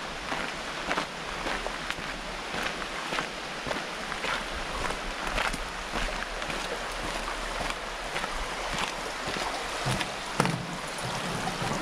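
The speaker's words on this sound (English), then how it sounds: "there's a beck, which is a tributary to the river" A small beck flows under a footbridge near a riverside campsite at Bolton Abbey, giving a steady broadband rush of running water, close and even throughout with no talk.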